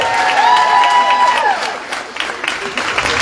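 A crowd applauds and cheers at the launch of the Kanturk Arts Festival, a close, lively spell of clapping with a whistle-like whoop rising over it and voices underneath.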